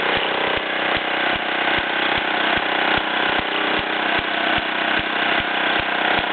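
A 1953 Mamod SE1 toy steam engine runs with a steady, dense mechanical whir. Regular soft ticks from the moving parts keep an even beat throughout.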